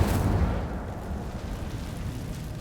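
A fire spell cast in the Hogwarts Legacy video game, heard as a soft whooshing burst of flame that dies into a low rumbling roar, with no talk over it.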